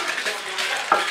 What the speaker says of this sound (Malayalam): ഇതേ പാത്രത്തിൽ തന്നെ ഞാൻ ഒരു 5 വറ്റൽമുളകും കൂടി വറുത്തെടുക്കുന്നുണ്ട്.